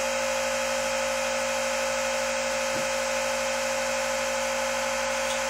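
A wine filtering machine runs steadily throughout, a continuous loud electric motor drone with a constant high whine, as filtered wine is drawn from a tilted carboy during home winemaking.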